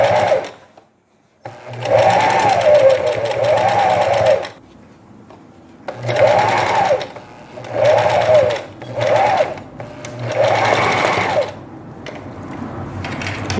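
Domestic sewing machine running in bursts as it topstitches across a knit jacket collar, several runs of a few seconds each broken by short pauses, close and loud.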